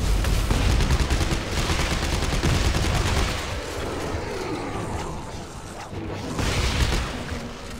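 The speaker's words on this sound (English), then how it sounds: "I love this shotgun. I'm gonna start using this more" A shotgun fires in the sci-fi horror game Dead Space 3 amid a dense, continuous barrage of booming gunfire and blasts that stays loud throughout, briefly easing midway before surging again.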